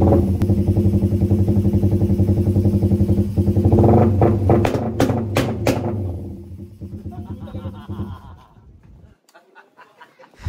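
A motorcycle with a newly fitted engine block idles during break-in, a close, loud, steady chugging that falters and dies away toward the end, with laughter and brief voices over it.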